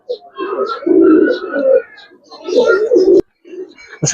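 Giribaz pigeons coo in close, repeated bursts, with a person talking among them.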